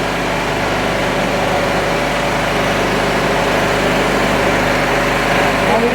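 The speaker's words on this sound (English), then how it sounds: "We have cut off the fuel supply for third cylinder and we will try to maintain the constant RPM of 3000 and the load of 7 kg." Multi-cylinder petrol engine on a test bench, fuel cut to its third cylinder, held at a constant 3000 RPM under a 7 kg load, running as a loud, steady drone throughout.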